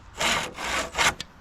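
Handsaw cutting a wooden dowel for a rabbit box trap, three close rasping strokes followed by a couple of short light scrapes, with no talking.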